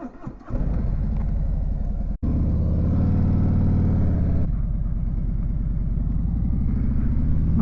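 A motorcycle engine runs with a loud, steady low rumble close by. A brief dip comes early on, then the rumble settles back in and holds evenly to the end.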